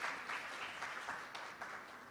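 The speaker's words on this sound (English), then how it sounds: "Give them a round of applause, please." Audience applause at a National Certification Body of Jamaica event, a steady, fairly faint wash of clapping lasting a couple of seconds.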